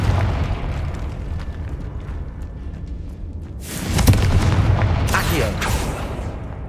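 Spell blasts in the Hogwarts Legacy video game, with a low rumbling bed giving way to a sharp burst and a second explosive crack, rolling booms echoing loud in a tomb setting.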